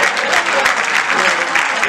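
An audience at a Hindi kavi sammelan poetry show breaks into loud, continuous applause, with a faint rhythmic pulse to the clapping and voices mixed in beneath it.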